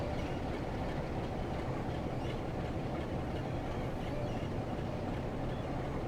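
A loco-hauled local train coasting along the West Cornwall line in Train Sim World 2 gives a steady, loud rumble of rolling wheels and carriage noise, with no talk over it.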